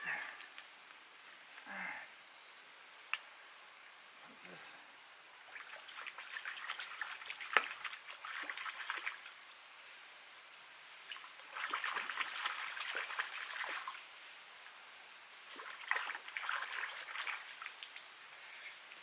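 A dirty Katadyn Pocket water filter being rinsed, with faint trickling and dribbling water coming in short intermittent bursts, quiet and close.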